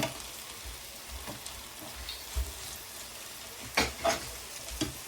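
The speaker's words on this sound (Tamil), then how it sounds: "இதையும் நல்லா இப்போ மிக்ஸ் பண்ணுவோம்." Spoon stirring puttu mixed with fried anchovies in a pan, soft sizzling and scraping with occasional louder clinks and scrapes.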